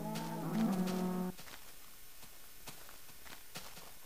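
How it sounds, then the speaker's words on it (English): A Minecraft cow gives one loud, drawn-out moo near the start, followed by soft repeated footstep-like thuds over faint background noise. "there's a lot of cows there for some reason."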